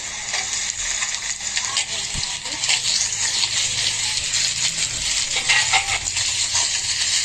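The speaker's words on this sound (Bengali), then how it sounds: "এবার শুটকি মাছগুলো পেঁয়াজ আর রসুনের সাথে একটু ভালো করে ভেজে নেব।" Dried lotia fish (loitta shutki) fries with onion and garlic in a pan, giving a steady, close broadband sizzle with occasional stirring scrapes and a brief clink, continuous throughout without talk.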